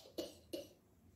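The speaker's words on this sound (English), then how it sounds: "coughing" Two short, quiet coughs come close together and then stop, with faint background hiss afterward.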